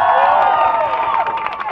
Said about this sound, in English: can we please just have another applause for this hero